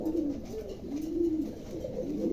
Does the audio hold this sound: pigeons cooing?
yes